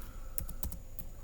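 Password being typed on a computer keyboard at a PC, a handful of quiet, sharp key clicks in an irregular rhythm, close and faint, with no talk.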